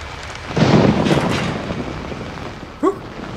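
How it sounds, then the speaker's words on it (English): Thunder rumbles through steady rain in the horror video game Outlast, a broad low roll building near the start and slowly fading over continuous rainfall, with a brief sharp sound near the end. "this thunder is ridiculous"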